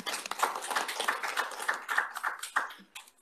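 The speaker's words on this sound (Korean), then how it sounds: "먼저 박수로 좀 세 분을 좀 환영해 주시면 고맙겠습니다" Scattered applause from a seminar audience at a policy forum welcoming three speakers, irregular claps of moderate loudness with no talk over them.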